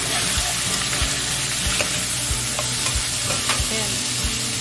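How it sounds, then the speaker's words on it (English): Shrimp sizzle steadily in a hot pan for shrimp lo mein, with regular scraping and stirring knocks of a utensil over a constant loud frying hiss. "let's put shrimp down here. Go ahead, cook shrimp"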